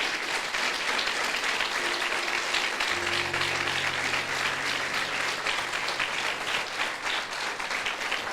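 Strong, sustained applause from a church congregation, a dense, even roar of many hands clapping throughout, with a faint low sustained tone entering partway through underneath.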